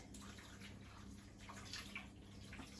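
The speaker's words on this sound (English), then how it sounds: "we're going to add some water over the mince" Water pours steadily over minced meat cooking in a pan, making a soft, continuous hiss and gurgle that stays quiet and even from start to finish.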